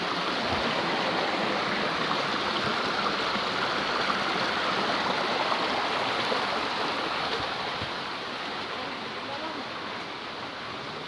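A murky river rushes steadily, a loud continuous broadband roar that barely changes over about eleven seconds and has no clear voices over it.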